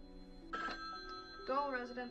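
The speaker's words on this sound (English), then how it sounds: "Answer the phone." A telephone rings in a Halloween fan-made video game, giving two short ringing bursts with a quiet gap between them, close and moderately loud.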